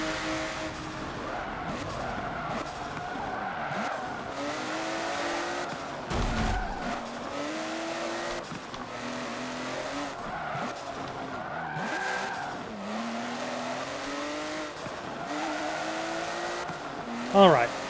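Race cars in Forza Motorsport 7 squeal and skid through corners, engines droning and shifting pitch continuously under a steady game mix, with someone talking over the racing throughout.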